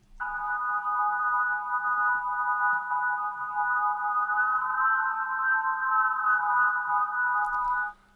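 Unfiltered Sylenth1 synth organ chord, sustained steadily and loud for about eight seconds with a brighter, fuller sound, then cutting off abruptly.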